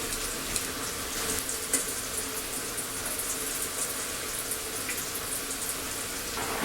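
Lumpia spring rolls fry in a pan of oil, giving an even, continuous bubbling sizzle that stays loud and close the whole time.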